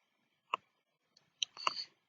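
Computer mouse clicking on a website while setting up a plagiarism check: a single sharp click, then a couple of faint ticks and a quick double click, quiet and close in an otherwise silent room.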